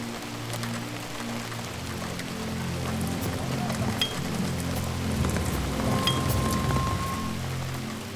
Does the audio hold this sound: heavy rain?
yes